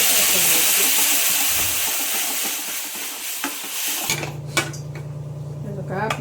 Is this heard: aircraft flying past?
no